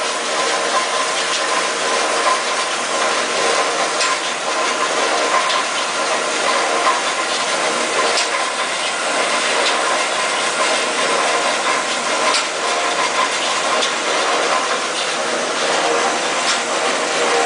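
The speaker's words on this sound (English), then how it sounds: "This does have a hydraulic down feed control. So as you can see, it's moving down." A DAKE Johnson JH10W3 band saw runs steadily while its hydraulic down feed lowers the blade through a cut, giving a constant bright mechanical whir with faint ratcheting texture and no pauses.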